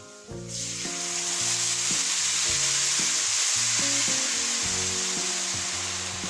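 Liquid is poured over saffron paella rice in a hot pan, setting off a loud, continuous sizzle right after a brief clatter at the start, with a bright hiss that holds steady throughout.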